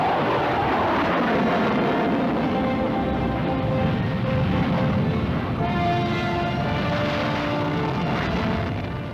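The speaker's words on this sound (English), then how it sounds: "The Jaguar is able to operate from short, semi-prepared or even grass runways." A SEPECAT Jaguar low-level strike jet at the 1981 Farnborough Air Show, a loud, steady jet roar with a shifting whine that fills the whole stretch and fades slightly at the end, no voices.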